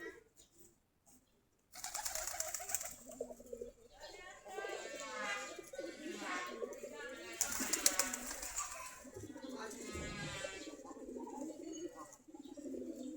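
Giribaz pigeons in a Bangladeshi loft give repeated low, rolling coos close by, some overlapping, amid a steady rustle after a brief quiet start.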